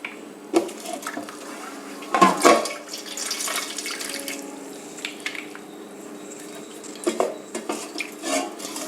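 Soaking water being poured off sliced snake gourd in a home kitchen, splashing and trickling with clinks of a vessel, a louder splash early on and scattered drips and knocks afterward.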